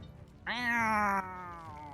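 A person's voice mimics a cat with one drawn-out, wavering meow, loud and close, then fades back into quiet room noise during a tabletop role-playing game session.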